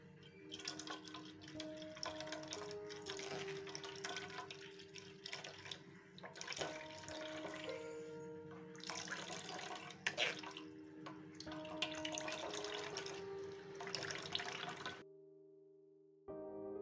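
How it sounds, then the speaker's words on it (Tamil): Blended carrot milkshake trickles and drips through a filter, a faint, steady liquid pour that runs for about 15 seconds and then stops. "இப்படி ஒரு ஃபில்டர் வச்சுட்டு இதை ஃபில்டர் பண்ணிடலாம்."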